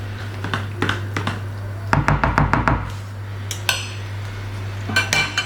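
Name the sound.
cutting roquefort cheese into small pieces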